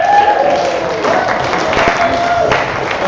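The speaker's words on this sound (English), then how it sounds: "Can we have another cheer for Rob?" A comedy club audience in Liverpool cheers and applauds a comedian with sustained clapping and crowd noise that stays steady throughout.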